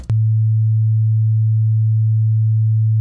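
A pure 110 hertz sine wave tone plays steadily and loudly, a single low unwavering hum that sounds alone after a tiny click at its start.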